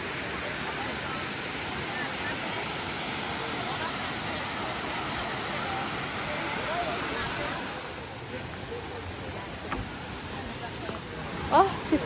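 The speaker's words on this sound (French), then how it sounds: "il y a des petites cascades" Small waterfalls at a cascade in Laos rush with a dense, steady hiss that fills the scene without pause. Faint voices and a few brief knocks come near the end.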